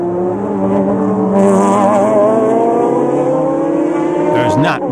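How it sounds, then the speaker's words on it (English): Race cars from the 1997 Le Mans 24 Hours endurance race, including a Ferrari, a Kremer GT1 and a McLaren, drone loudly with rising engine notes as they run close together. A commentator talks over the racing. "This is tight racing in the endurance field."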